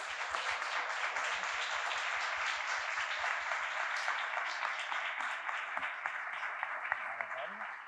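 Audience applause thanking guests at the close of a public policy and design talk series session: steady, even clapping from a modest crowd holding for several seconds, with faint background murmur.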